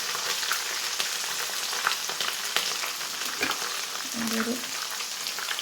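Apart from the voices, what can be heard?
uncrushed garlic frying for Kerala mango pickle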